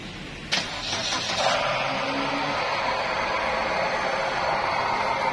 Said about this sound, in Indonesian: Dan bisa teman-teman dengarkan ya, untuk suara mesin kasarnya seperti ini.